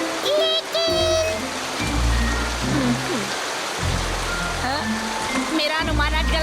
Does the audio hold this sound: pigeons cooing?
no